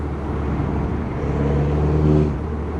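Engine and exhaust of an R56 JCW Mini with a decat exhaust and turbo, a steady close drone that swells into a brief rev before settling again.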